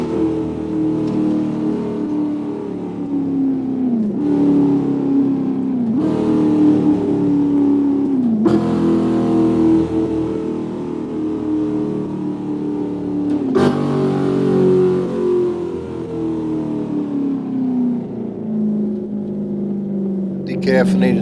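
A ZR-1 Corvette engine, lightly tuned with porting and polishing and a raised rev limiter, revs hard and close, climbing and dropping in several loud bursts with a steady idle rumble between them.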